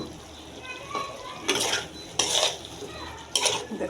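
A pot lid is lifted and dried-fish curry with taro stems is stirred, giving three distinct clattering metal bursts of lid and spoon against the pot, close by, with quiet gaps between them.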